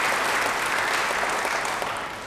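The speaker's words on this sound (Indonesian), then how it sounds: "Beri tepuk tangan bagi Dia." A congregation at a church sermon applauds together, a dense, steady wash of clapping that holds at full strength for about two seconds with no talking over it.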